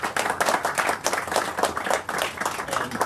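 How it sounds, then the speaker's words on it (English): A short burst of applause from a small group at a university ribbon cutting ceremony, steady clapping throughout at moderate volume with no voices. "So let's have a round of applause"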